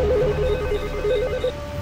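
A phone ringtone from GTA 5 plays as a steady melodic electronic tune with repeating notes, loud and continuous over a low game-sound bed, with no talking.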